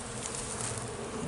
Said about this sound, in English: Looks like a black bee there. A nice black bee. Nice and calm.